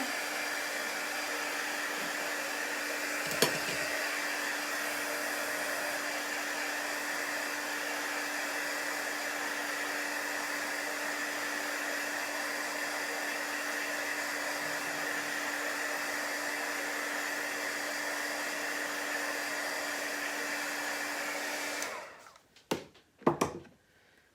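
A hair dryer blows steadily for about twenty seconds to dry chalk paint on a craft piece, a close, constant whooshing hum, then it switches off, followed by a few clattering handling noises.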